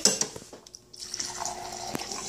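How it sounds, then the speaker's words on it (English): Kitchen tap water running into a glass, a short splashy pour with drips and a brief pause before the stream resumes, close and fairly clear. "And then just fill it up with water"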